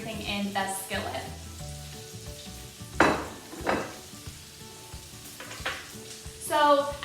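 Chicken pieces fry in butter and seasonings in a skillet, giving a steady close sizzle. Louder bursts of spattering and stirring rise and fall over it, and there is no talk.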